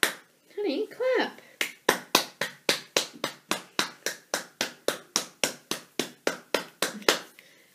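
Following brief speech, one person claps hands in a steady rhythm, about two crisp, close claps per second, continuing for several seconds in a quiet room.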